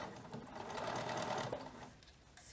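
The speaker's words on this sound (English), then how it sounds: "And I'm sewing this on my free arm." A sewing machine stitches a small baby dress on its free arm, a steady fast whirring run for about a second and a half that then slows and stops.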